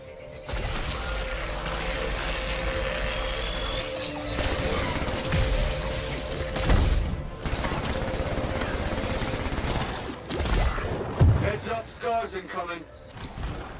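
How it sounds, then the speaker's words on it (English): Weapon gunfire and ability effects in the video game Anthem: dense, loud bursts of rapid shots, booms and mechanical clatter filling the clip, with a few sharper impacts near the end. "the weapons and abilities really sound impactful and dangerous"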